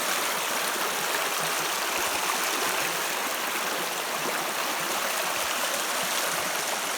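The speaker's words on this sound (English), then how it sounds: "Beauty little creek." Small wilderness creek flowing along an old trail, a steady broadband rush and trickle of water heard close and continuous for several seconds, with no voices over it.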